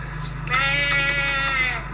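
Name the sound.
sheep bleating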